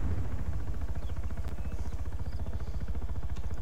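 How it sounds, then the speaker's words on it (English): A helicopter in the video game Arma 3 drones continuously with a fast rhythmic rotor thump under engine roar, loud and close. "What's that chopper doing, Ali?"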